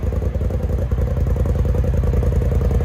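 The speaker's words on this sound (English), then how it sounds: "Got a nice idle to it now." A 2021 Polaris RZR XP 1000 Turbo with an aftermarket muffler idles close by, a steady, lumpy low rumble with an even pulsing beat throughout, no voices.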